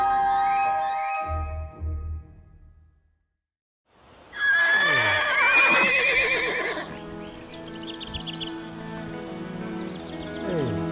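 Murgese horses neighing at a horse breeding farm, a loud nearby whinny rising and trembling after a short silence, with another horse calling and faint hoof clatter around it.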